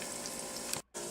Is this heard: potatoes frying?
yes